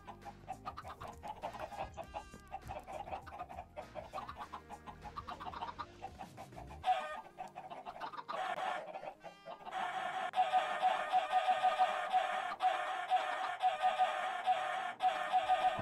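Chickens clucking in the Minecraft modpack Sky Odyssey, a steady run of game fowl sounds that grows louder and denser in the second half, with no talk over it.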